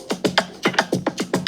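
Rim shot accents punctuate a programmed Afrobeat drum loop for a song, with sharp clicking hits falling in a quick, syncopated pattern among the other percussion and no talking.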